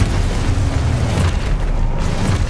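An Expulso explosion spell in the video game Hogwarts Legacy, heard as a loud, sustained booming rumble with dense blast noise filling the whole moment, no voices.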